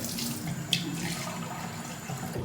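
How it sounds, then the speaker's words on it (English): Warm tap water runs steadily into a basin or container, a close, continuous splashing gush with one brief clink partway through. "So I'm just going to fill this with a bit of warm water. I'll just let that run."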